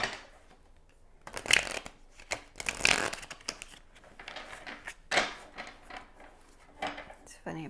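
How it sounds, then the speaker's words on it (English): Tarot cards being shuffled by hand in a quiet room, with several bursts of riffling and flapping separated by softer handling noises and pauses. "I'm having a hard time shuffling for your"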